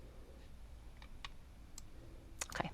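A computer mouse clicks a few times while someone works in lung lobe quantification software. The clicks are faint and widely spaced, with a couple of quick ones near the end over quiet room noise.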